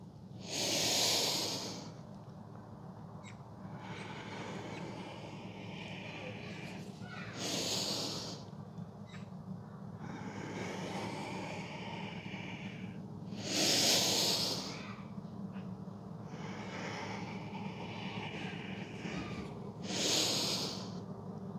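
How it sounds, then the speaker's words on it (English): Breathing during a no-equipment bodyweight workout, with four loud, breathy exhales roughly every six seconds, each a short forceful rush of air, over a steady low background hum. "Follow your own breath."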